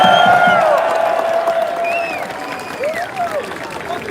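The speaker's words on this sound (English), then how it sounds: "Let's give them a round of applause." A rally crowd in Los Angeles breaks into loud applause mixed with cheers and whistles, a wide wash of clapping that eases slightly while rising whoops and a few shouted voices carry over it.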